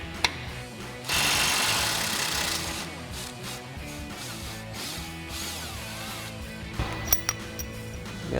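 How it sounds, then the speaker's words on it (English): An impact wrench fitted with a 19 mm socket rattles in one loud burst on a track bar bolt during a suspension lift install, then gives way to clanking tool handling and a few sharp knocks. "we'll grab our 19 mil socket on our impact to do that"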